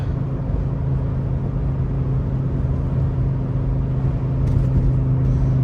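An Audi Ur Quattro with a five-cylinder engine drives along, its steady low engine rumble and road noise heard from inside the car at a constant level.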